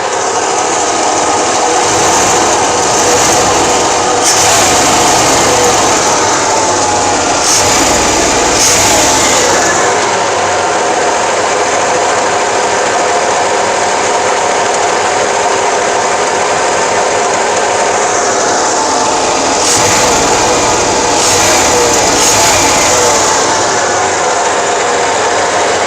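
A Chevy/GM V8 with throttle body injection idles at roughly 500 to 650 RPM. The engine drone is loud and continuous and stays close and steady throughout, with no voices over it.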